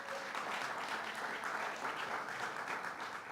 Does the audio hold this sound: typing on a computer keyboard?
no